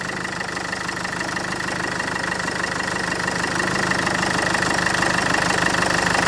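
A car engine idles steadily nearby while a Webasto fuel-burning heater warms up, giving a constant low mechanical hum and rhythmic ticking that grows slightly louder toward the end.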